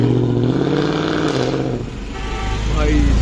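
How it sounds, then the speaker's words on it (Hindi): A Ford Mustang pulls away at Khan Market, its exhaust giving a loud, deep burbling rumble that swells as the car drives off, with a voice talking over it. "ये देखो इसका एग्जॉस्ट। नाउ मस्टैंग निकल रही है"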